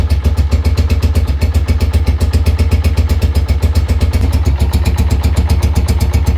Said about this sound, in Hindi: उसके बाद मैं आप लोगों को बाइक का साउंड भी सुनाता हूँ